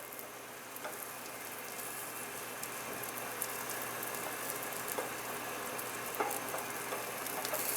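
An omelet fries in a pan with a steady, close sizzle and crackle, broken by occasional sharper pops throughout.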